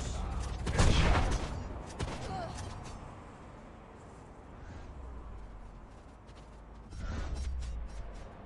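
Gunfire in a shooting video game, a loud burst of shots early followed by scattered quieter reports and a later rumbling volley, with voices talking over parts of it.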